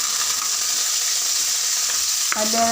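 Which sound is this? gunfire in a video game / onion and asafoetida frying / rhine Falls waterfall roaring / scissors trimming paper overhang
onion and asafoetida frying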